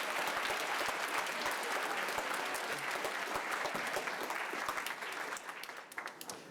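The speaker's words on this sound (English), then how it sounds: "And another round of applause for the percussionists that are doing all that work back there." Concert audience at a school fall concert applauds the percussionists, sustained crowd clapping that holds steady for several seconds and then thins out toward the end.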